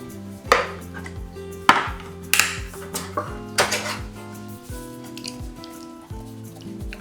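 Cans of organic diced tomatoes tip into a cooking pot with a few sharp metallic clanks and splashy thuds, spread over several seconds against a steady background hum.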